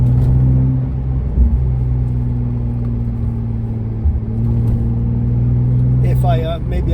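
A 2015 Porsche 911 Turbo S (991.1) with a 3-inch exhaust, its engine giving a steady loud low rumble close by, with a brief rise near the end and talk over it.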